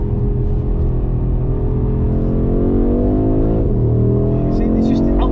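A new Audi RS3 8Y with its boost turned up accelerating hard, its engine droning loud and rising in pitch with a shift partway through, heard from inside the car.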